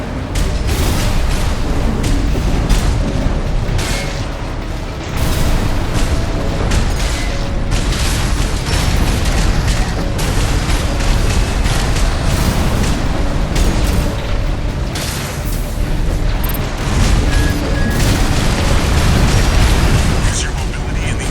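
Armored Core VI gameplay with a mech fighting amid explosions on the ground: continuous heavy booms, bursts and mechanical clatter rumble loudly throughout with no pauses.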